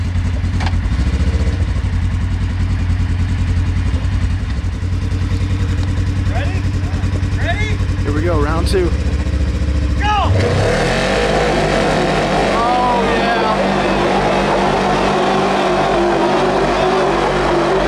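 A side-by-side revving to heat its tires at a tug of war championship, a loud rumbling engine that swells and rises in pitch, with crowd noise and voices talking over it.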